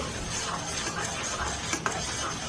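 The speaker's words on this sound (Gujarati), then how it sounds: "આ રીતે આપણે સારી રીતે મિક્સ કરી લઈશું" A spoon stirs kadhi, a sweet-and-sour Gujarati yogurt curry, in a pot, giving a steady wet scraping and swishing that runs throughout at close range, with one sharper clink near the end.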